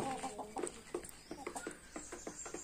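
Hens cluck close by in a quick, busy series of short calls, overlapping and continuous without any voices.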